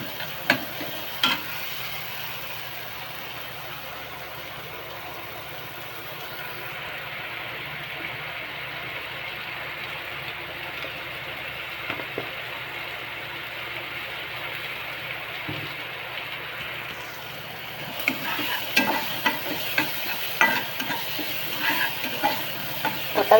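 Onion and tomato roast in a pan with a steady low sizzle and occasional stirring scrapes, quiet and close, the frying growing louder and busier toward the end.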